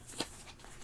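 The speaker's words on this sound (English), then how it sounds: "And I'm going to shuffle up." Playing cards shuffled by hand during a Numbsters card game, a brief soft riffle heard close and quiet with no talk over it.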